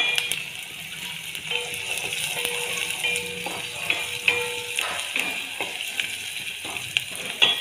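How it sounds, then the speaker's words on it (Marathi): Coarsely crushed ginger and garlic paste sautés in a pan with a moderate, steady sizzle, broken by light clinks and scrapes of a spoon stirring against the metal, without any speech. "थोडासा कच्चेपणा जाईपर्यंत आल्या लसणाचं परतून घ्यायचं आहे आपल्याला"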